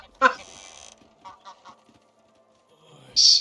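Ducks in the medieval life-sim game Medieval Dynasty give a few short honking quacks, one sharp call at the start, softer ones in the middle and a louder final call, near and without speech.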